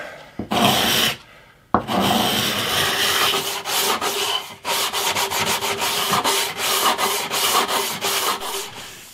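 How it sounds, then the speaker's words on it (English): A wooden guitar fretboard is scraped along the grain in steady repeated rasping strokes, close and fairly loud, with a couple of brief pauses early on. "It helps to scrape it in the direction of the grain as well."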